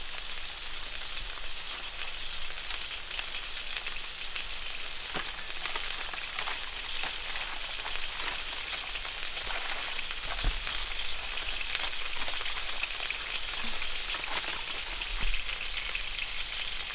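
Shrimp fry hard in a hot wok for char kuey teow, a steady loud sizzle running throughout with occasional sharp pops and crackles, no voices.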